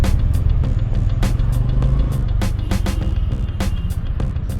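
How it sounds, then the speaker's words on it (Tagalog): Busy street traffic heard from a Bristol Cub Pro motorcycle in the Philippines: steady loud engine rumble and revving vehicles close by, with sharp clicks and knocks over the dense roadway noise and no talking. "Grabe naman traffic dito."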